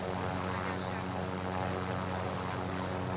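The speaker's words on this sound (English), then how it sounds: "Oh, there's another heli over there." A helicopter in Call of Duty Warzone sends out a continuous droning engine and rotor rumble with a steady tonal hum, loud and unbroken throughout.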